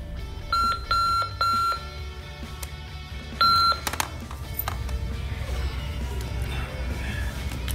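A digital alarm clock beeps in a few short bursts, then stops as rustling and handling noises continue close by.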